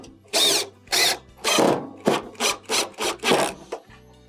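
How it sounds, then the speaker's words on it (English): A power driver spins screws into the metal perimeter panel of a Samsung stove with a triple radiant element, sounding as about eight short whirring bursts in a steady rhythm, close and clear, with brief pauses between them. "Go around the perimeter and replace the other screws."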